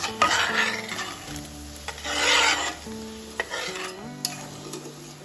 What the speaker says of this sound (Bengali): গ্রেভিটা ফুটে উঠেছে এবার আমি এর মধ্যে দিয়ে দেবো ভেজে রাখা ভেন্ডিগুলো